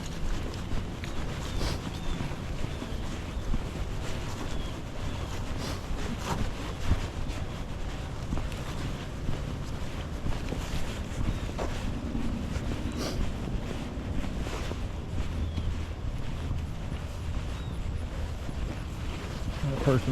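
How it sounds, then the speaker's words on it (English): Gusty wind buffets the microphone on a walk through a park, producing a continuous low rumble and roar with fluctuating bursts that nearly bury the surroundings. "Wind is coming at our face."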